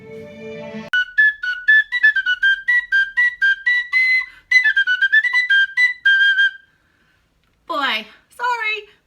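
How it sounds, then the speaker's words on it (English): A penny whistle plays a bright, lilting melody of quick repeated notes in two phrases, alone and close, after a brief lower tone, followed by two short sliding squeaky sounds. "I had to just play along with my penny whistle"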